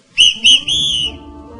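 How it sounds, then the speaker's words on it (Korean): Three sharp, shrill whistle blasts ring out close by during a meeting: two short toots followed by a longer held one. "그래서 이 호루라기로 다시 한번 경고를 보냅니다"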